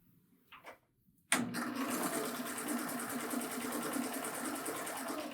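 A Baby Lock Euphoria serger sews a chain stitch with one needle and a looper thread. After a couple of faint clicks it starts abruptly into a fast, steady mechanical whir that runs evenly and close.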